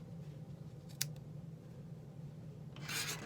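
Scissors snipping yarn ends on a crocheted ear warmer, one quick sharp snip followed by a fainter one, then a rougher rustle near the end, all close and quiet against a low background hum.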